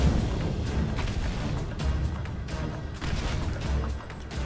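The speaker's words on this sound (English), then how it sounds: "Explosions." Explosions in the game Final Fantasy XIV, a dense rumbling barrage of booms and crashes, fairly loud and continuous, with no voices over it.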